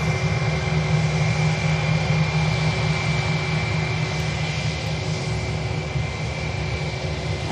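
Ryanair jet airliner on its takeoff roll at Manchester Airport, a loud, steady engine roar with deep rumble and a constant whine, sustained close by throughout with no speech.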